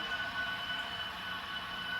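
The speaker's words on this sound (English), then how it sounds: "That is a long grain train with old Microtrains trucks on it, and it pulls hard" A model train locomotive with old Microtrains trucks hauls a long grain train, producing a continuous, fairly quiet rolling whir and rattle with no talking.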